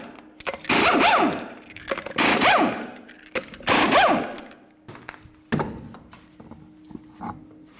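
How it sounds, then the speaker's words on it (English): Lug nuts coming off the rear wheel of a Nissan Titan, six 21mm nuts loosened by a power tool in several loud, rattling bursts of about a second each, followed by quieter clicks and knocks. "continue on to removing all 6 of your 21mm lug nuts and then the wheel"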